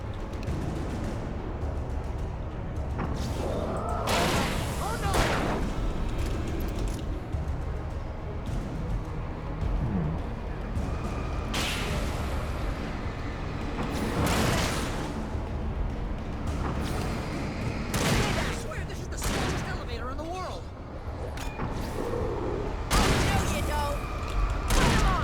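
Loud, dense gunfire and booming blasts in the video game Alan Wake, firing in repeated bursts over a constant roar of action while people talk over it.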